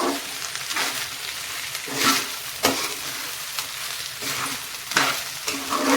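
Ghee rice masala with salt fries loudly in a pan, a dense close sizzle broken by repeated spatula stirs and scrapes every second or so, with no voices.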